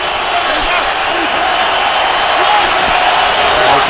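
Steady, loud roar of a football stadium crowd at a Bengals–Chargers game in San Diego, a dense wash of cheering and noise with no breaks.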